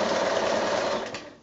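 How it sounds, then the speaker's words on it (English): A sewing machine runs a steady, fast stitch while topstitching a quilt's flange. The whir is continuous and close, then eases off slightly at the end. No one speaks. "sewing it on top like this."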